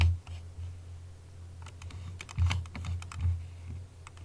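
A computer mouse gives scattered, quick, light clicks close by during chart editing, over a low steady hum.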